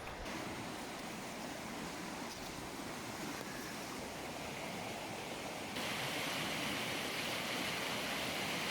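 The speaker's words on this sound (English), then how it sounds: "that river's getting too loud" A loud river rushes close by in an outdoor camp setting, a constant broadband roar of flowing water that grows noticeably louder and brighter partway through, with no one speaking.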